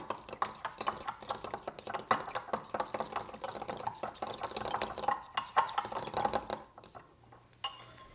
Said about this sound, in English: give that whole mixture a big stir to combine everything